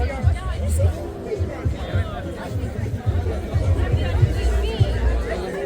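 Dense crowd chatter fills a kebab shop launch in Melbourne, a steady babble of many overlapping voices close by with occasional louder exclamations.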